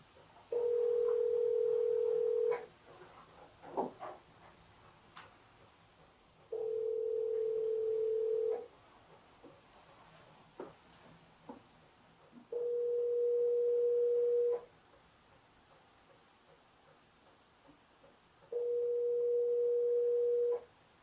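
An outgoing phone call rings unanswered: four evenly spaced long ringback tones, each about two seconds, repeat at a steady rhythm with quiet gaps and faint background clicks between them.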